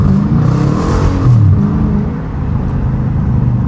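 A Dodge Challenger RT engine in sport mode revs hard and loud while downshifting as the car slides and spins its wheels through a snowstorm, a steady close-up roar that swells and dips without pause.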